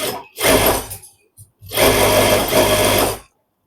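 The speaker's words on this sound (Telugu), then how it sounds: "ఇట్లా ఫస్ట్ బాగా లోపలికి వేసిన తర్వాత ఇది కుట్టుకోండి" Sewing machine stitching a fish-cut kurta, running in two close, loud bursts, a short one then a longer steady run, with a brief pause between.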